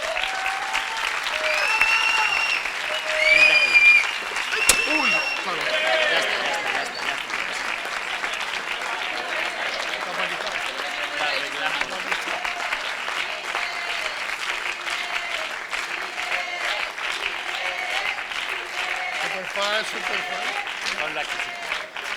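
A long, steady ovation from the audience at the Virgen de Orito town festival proclamation in 2025, swelling early and then holding evenly, with scattered voices and cheers mixed into the clapping.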